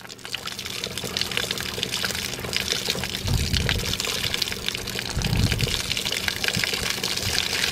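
Water pours and gushes steadily as a 6-inch bell siphon drains, with a continuous rushing flow and deeper gurgling surges swelling in twice, close and loud.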